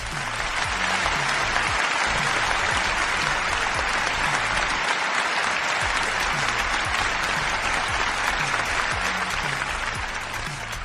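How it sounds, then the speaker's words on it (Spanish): Loud, sustained applause from an audience welcoming a voice actor guest, dense steady clapping filling the whole stretch with no talk over it. "Espero que le den un fuerte aplauso, por favor"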